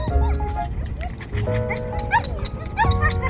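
A border collie whimpers and whines in rising, nasal cries, close and continuous, with short yips mixed in and a person speaking briefly underneath.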